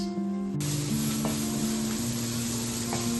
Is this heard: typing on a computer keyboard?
no